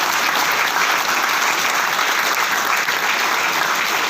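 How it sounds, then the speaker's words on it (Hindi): Steady, loud applause from a seminar audience at Kumar Bhaskar Natya Mandir, a dense sustained clapping that fills the room without a break and with no speech over it. "एक जोरदार ताली होनी चाहिए"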